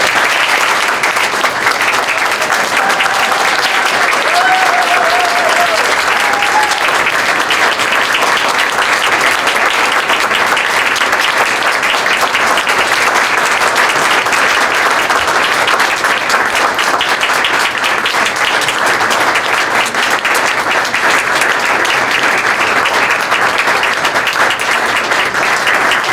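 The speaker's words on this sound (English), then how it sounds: "Let's give Shelley a round of applause." An audience at a domestic violence awareness gathering claps loudly and steadily for nearly half a minute, a dense, even wash of applause with no break.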